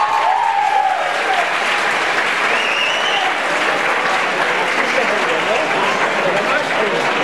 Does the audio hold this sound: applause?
yes